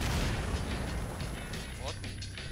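Sticky bomb detonating in the video game PUBG during a tournament broadcast, a dense, rumbling blast with crackling debris filling the moment, while voices talk over it.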